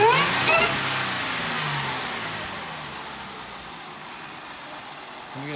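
A 2016 Jaguar XF with a 3.0L engine and Mina Gallery intake kit revs hard in a single loud burst, then the sound slowly falls away toward idle before a second short blip at the end.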